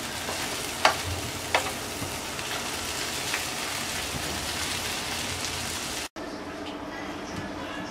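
Spinach frying with lentils in a pan, giving a dense, steady sizzle like heavy rain with a couple of sharp clicks early on. It cuts off abruptly and then continues more quietly.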